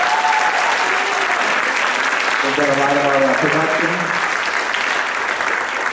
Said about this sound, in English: So let's give a big round of applause for Kelly and Luke up on the booth there.